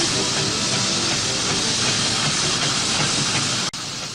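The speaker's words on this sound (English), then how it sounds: "There's steam everywhere you turn" Steam engines at the Great Dorset Steam Fair release a loud, continuous broadband hiss of escaping steam that holds steady for about four seconds, ending with a sharp click and a slight drop in level.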